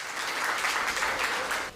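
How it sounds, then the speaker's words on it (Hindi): Audience at a comedy stage show breaks into a short, dense burst of clapping that swells and then cuts off. "आप इनके लिए जोरदार ताली बजाएं"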